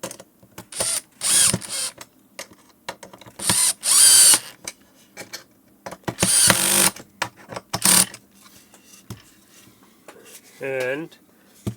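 A power driver runs screws into the frame of a wooden two-tier kitchen fruit basket, producing loud repeated whirring bursts with clicks and pauses between them, close by, plus a brief voice near the end.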